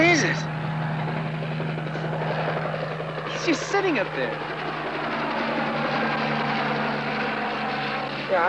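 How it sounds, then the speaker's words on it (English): A helicopter's steady rotor and engine drone fills the whole stretch at moderate distance, with a continuous low hum and chop and people talking over it. "Helicopter, I think they called it."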